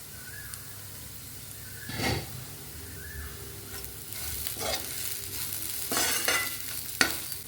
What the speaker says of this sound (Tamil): லோ ஃப்ளேமில் வேகணுங்க பாவக்காய்.